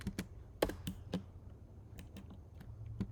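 Code is typed on a computer keyboard: quiet, close, irregular key clicks and taps in short bursts with pauses, heard alone.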